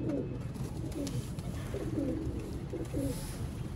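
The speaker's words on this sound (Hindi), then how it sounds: "ब्रीडर कबूतर हैं ये" Sialkoti breeder pigeons coo softly in a series of low, repeated calls, close by against a steady background hum.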